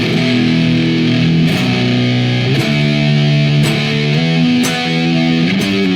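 Electric guitar with amplifier gain near six blended with a distortion pedal, loud saturated chords struck roughly once a second and left to ring, steady and close.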